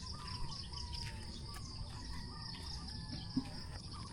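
Crickets trill steadily at a hillside campsite in Arayat, Pampanga, a continuous high insect buzz over low ambient rumble, with a soft thump near the end and no talking.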